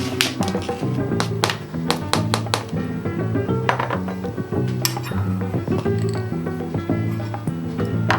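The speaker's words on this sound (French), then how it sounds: "on va mélanger les éléments qui sont secs, comme la levure et la farine et le sel" Dry flour, yeast and salt being mixed in a bowl for olive bread: continuous tapping and clinking of a utensil against the bowl, close and busy, over a faint background hum.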